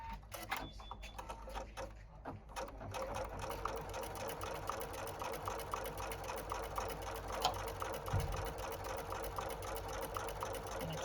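A Viking Ruby 90 embroidery machine stitches appliqué letters in a rapid, continuous mechanical chatter, close and steady after a few brief starting clicks, with no talking.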